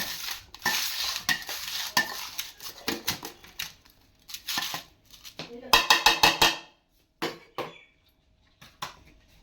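A spoon clinks and scrapes around a bowl of chana chaat with cucumber and tomato, in quick clattering bursts with pauses, near and fairly loud.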